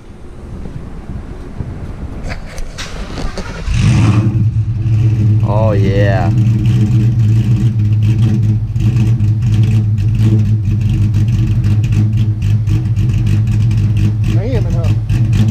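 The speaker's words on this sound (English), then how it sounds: "Cold start for the win." A Ford Fox body fitted with a Coyote engine cold-starts outdoors, catching at once and settling into a loud, steady rumbling idle with a couple of brief revs, while someone talks briefly over it.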